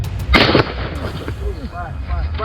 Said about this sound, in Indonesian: buaya muara ini kemudian ditembak petugas